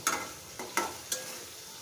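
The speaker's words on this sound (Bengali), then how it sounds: "মাছটা কষানো ভালোভাবে কষিয়ে নেব" Fish sautéed in a pan for a fish curry with brinjal and dundul, heard as a few quiet scraping stirs over a soft, low sizzle.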